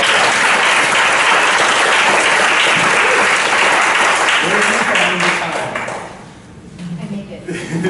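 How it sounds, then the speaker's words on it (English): Audience applause at an impact investing conference, dense loud clapping that fades after several seconds as a speaker's voice resumes. "So everyone give a round of applause."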